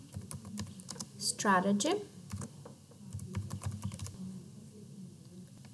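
Rapid clicks of a computer keyboard as a blog entry is typed, near and steady with short pauses between bursts, while a person speaks over the keystrokes.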